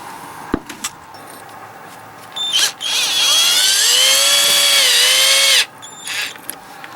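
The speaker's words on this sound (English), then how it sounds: "Now I'll put the screws in and the outside work is done." A power drill drives screws into mortar to fix an exterior PEX hose spigot, first with a few short clicks and bursts, then one loud, sustained whine lasting about three seconds whose pitch shifts as the screw bites.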